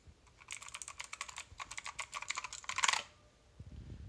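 Rapid clacky computer keyboard typing, steady bursts of keystrokes that grow louder and denser toward the end, then stop.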